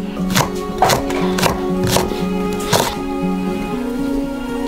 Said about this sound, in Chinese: 把辣椒切细，再给它剁碎。